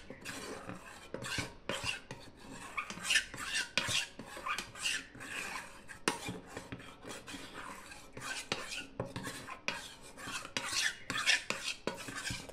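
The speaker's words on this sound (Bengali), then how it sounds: "এটাকে ভালো করে আমি এখন মিক্সড করে নিচ্ছি জলের সাথে" Two or three spoonfuls of flour stirred with water in a bowl, giving a steady run of close scraping, rasping strokes against the container that continues for several seconds, with no speech.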